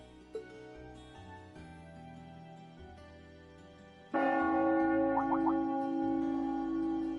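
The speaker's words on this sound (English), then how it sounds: "That must be Heimdall Cathedral's bell. It has a solemn, stately sound, wouldn't you say?" Heimdall Cathedral's church bell in the role-playing game Trails of Cold Steel: a loud, resonant bell toll enters partway through over soft music and then rings on with a long, sustained hum, with no one talking.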